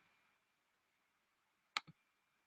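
A computer mouse gives a single quiet click, a sharp press followed closely by its release, against near silence.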